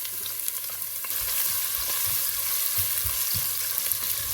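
Spices with ginger and garlic sizzle steadily in hot oil in a pan, a continuous bright crackle with soft stirring knocks underneath, close by and with no speech.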